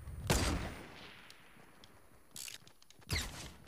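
Gunfire in Fortnite, three sharp bursts of shots with crackling impacts, the first loudest, separated by quieter gaps with faint clicks.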